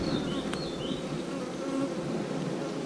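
Honeybees swarm in a dense, steady buzz from an open beehive opened for a frame inspection during late-season queen rearing, loud and close throughout with no talking.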